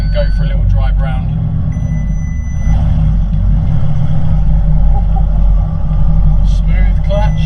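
A rebuilt Audi R8 engine drones low and steady inside the cabin as the car pulls away, with someone talking over it and small clicks and thumps now and then.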